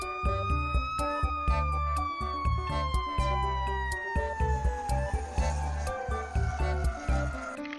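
A toy fire engine ladder truck siren wails with a slowly falling electronic tone over rhythmic clicking and beeping, fairly quiet and close.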